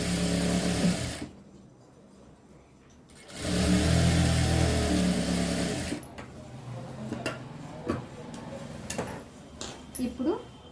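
An electric sewing machine runs in loud bursts stitching frock cloth, stopping and restarting, then gives way to clinks and handling sounds, with a voice talking faintly in places.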